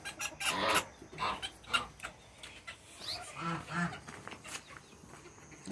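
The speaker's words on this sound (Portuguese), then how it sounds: "Só fui aqui fechar a porta pra essas galinhas não sair." Chickens cluck softly at night on a farm while coops are closed up, with scattered short clucks and rustling and a person speaking now and then.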